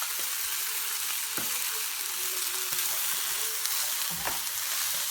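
Mint leaves with tamarind sizzle and crackle steadily in a hot pan for pudhina thokku, a close, continuous frying hiss with a few soft stirring knocks.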